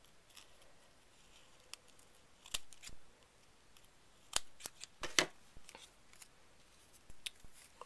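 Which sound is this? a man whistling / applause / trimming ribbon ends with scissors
trimming ribbon ends with scissors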